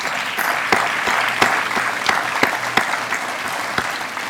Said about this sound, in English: Would all today's honorees please stand so that we can give them one more